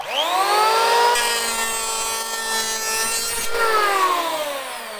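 A Ryu electric hand planer bites into wood under load, its loud, steady motor whine rising at the start, then holding a bright, buzzing tone while shaving, with no talking.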